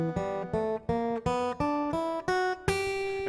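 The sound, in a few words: blues scale played on acoustic guitar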